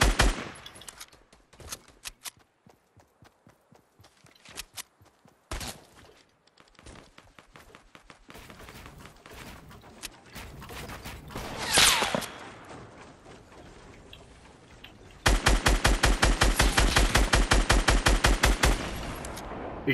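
Gunfire in a shooter video game, sparse single shots and short bursts at first, building to a loud, fast continuous automatic volley in the final seconds.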